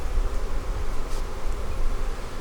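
Honeybees swarm around a newly installed hive in a bee yard, a dense continuous buzzing heard close and fairly loud, with no voices.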